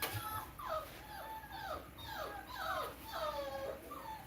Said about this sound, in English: You guys hear the puppies?